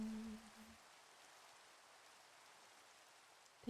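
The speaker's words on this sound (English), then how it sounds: "Hopefully the rain is nice and not lightning-y." Steady rain falls in a Minecraft hardcore world, a soft, even hiss that runs throughout with no thunder, preceded by a brief low tone at the start.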